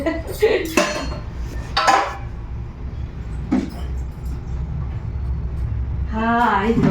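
Steel dishes and utensils clank and clink against each other in a few bursts, close up, with people talking in between.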